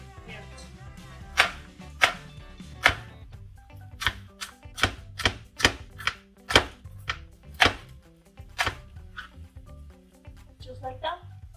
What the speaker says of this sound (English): And now we're going to chop our carrots.